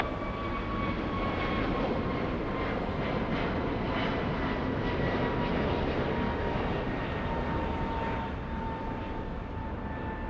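A Philippine Airlines jet airliner at LAX gives off a steady, broad engine roar with a faint whine, at moderate distance, holding level throughout with no talk.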